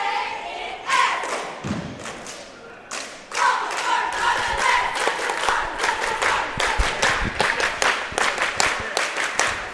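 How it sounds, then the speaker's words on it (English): Waltonville cheerleaders perform their opening cheer at a high school basketball championship game in a gym, with rhythmic rapid thumps and claps, steady and loud, over a crowd echoing in the hall. "See the Waltonville cheerleaders do their opening cheer here."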